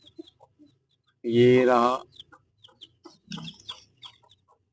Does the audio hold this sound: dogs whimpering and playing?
no